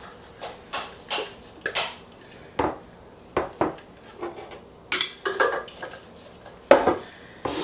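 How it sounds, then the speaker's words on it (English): Crumb crust mixture for a peach cobbler cheesecake is scraped and tipped into a baking pan with a utensil, producing a series of close clinks and soft scraping knocks at an uneven pace. "go ahead and put all of that straight into your pan"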